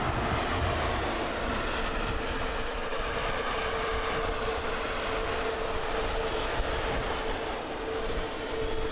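A loud, steady Airbus A350 jet engine roar at Manchester Airport, a continuous broadband rush with no pauses, heard close and unchanging throughout.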